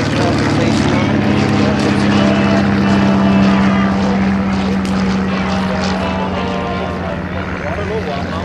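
A Chipmunk propeller trainer airplane drones loudly close by at an airshow with a steady low hum that holds and then slowly fades as it passes.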